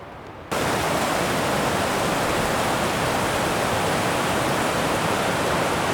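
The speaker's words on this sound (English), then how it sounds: "Hiking next to the main creek coming out of Darwin Canyon right now." Mountain creek rushing out of Darwin Canyon, a steady broadband roar of water that swells in abruptly after a brief quieter moment, then holds loud and continuous with no voices.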